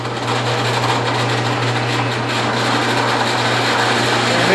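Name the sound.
drilling entry holes in wood for scroll saw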